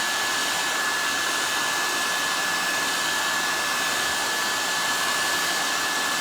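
A hair dryer blows steadily and loudly at close range while drying a thin decoupage coat on a stone surface, its even rushing whir unbroken from start to finish with no talk.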